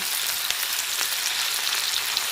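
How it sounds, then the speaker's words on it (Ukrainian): Salt pork and onion sizzle steadily in a pan for a Transcarpathian fry-up, a dense, even crackle with occasional sharper pops and no voices. "І поджарюю із цибулькою."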